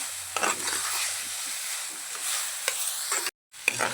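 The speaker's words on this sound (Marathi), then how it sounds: "त्यासाठी आता आपण याला घट्ट करून घेऊ. छान असं परतून घ्यायचं." Carrot halwa is pressed and stirred in a hot pan to thicken it, giving a steady soft sizzle with intermittent scraping strokes of the spatula, close and continuous apart from one brief cut to silence.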